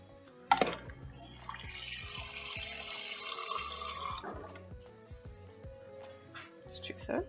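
Iced water is poured from a cup into crumbly pastry dough made with butter, a thin trickling stream lasting a few seconds under close kitchen talk.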